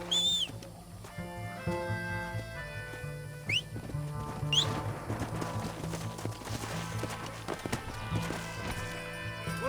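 Horse hooves drumming in Red Dead Redemption as riders hurry toward a train, a steady clip-clop under music and game sounds, with brief whistling tones and no clear speech.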